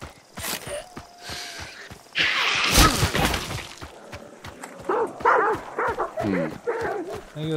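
Dogs barking in the video game Hunt: Showdown 1896, several sharp barks and yips mixed with mechanical clatter and a burst of noise, with a voice speaking over parts of it.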